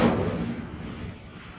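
Incendio fire spell cast in Hogwarts Legacy: a loud burst of flame with a heavy whooshing roar at onset that slowly fades over about a second and a half, heard alone.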